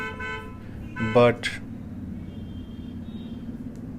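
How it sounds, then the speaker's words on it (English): A car horn honks outdoors in two short bursts, the first longer and louder, with faint traffic rumble continuing afterward and a brief word spoken nearby. "somebody is honking the horn and I don't like it"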